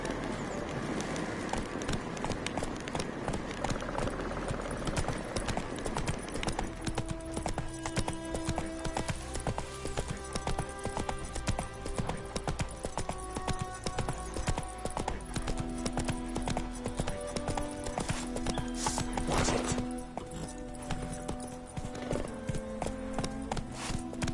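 Roach, a horse in the Witcher 3 video game, gallops with a steady rapid clip-clop of hooves throughout, loud and close over continuous game music, with no talking.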